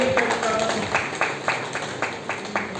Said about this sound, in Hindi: कृष्णा जी को एक बार जोरदार तालियों से